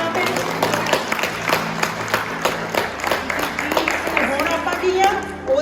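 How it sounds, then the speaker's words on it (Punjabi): A church congregation claps for God in a short round of steady applause, with some voices mixed in and a thin whistling tone rising near the end. "ਇੱਕ ਵਾਰ ਜ਼ੋਰਦਾਰ ਤਾੜੀਆਂ ਪਰਮੇਸ਼ਰ ਦੇ ਨਾਮ ਤੇ"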